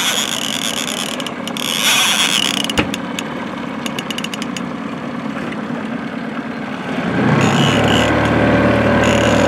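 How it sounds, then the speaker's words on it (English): A fishing reel's drag clicks in fast ratcheting bursts as a hooked fish pulls out line, with a short burst, then longer rattling runs over outdoor background noise. "I love the sound of that drag."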